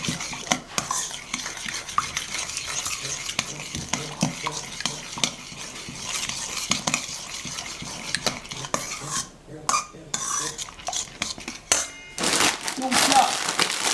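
Spoon scraping and clinking against a bowl as a mixture is stirred for a ham and cheese panini, a steady scratchy stirring with a few louder knocks near the end.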